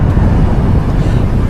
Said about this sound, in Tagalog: Sobrang lakas talaga ng hangin.